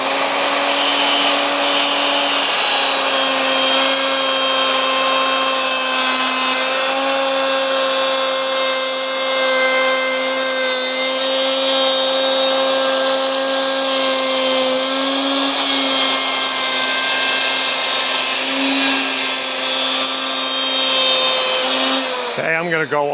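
A woodworking router runs at steady full speed, cutting a board in a counterclockwise direction, with a loud sustained high whine that holds throughout and shuts off abruptly near the end.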